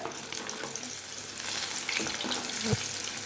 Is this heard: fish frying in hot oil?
yes